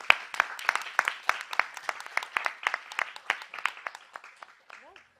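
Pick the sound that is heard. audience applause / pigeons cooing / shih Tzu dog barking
audience applause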